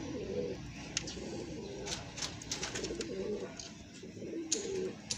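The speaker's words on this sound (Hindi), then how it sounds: "हाँ कबूतर" Pigeons coo in soft, repeated low calls at close range, with a voice faintly in the background.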